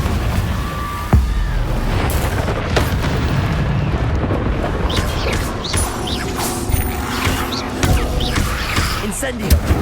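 Booming blasts and crashing impacts from a Confringo fire spell in the Hogwarts Legacy video game, landing repeatedly amid steady loud game noise and mechanical clatter, with a voice calling out over the top.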